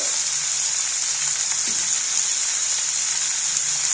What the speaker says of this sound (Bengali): এইটা দিয়েই আগে ফার্স্ট একটু ভাজা করে নেবো সবজিটাতে কাঁচা গন্ধটা চলে যায়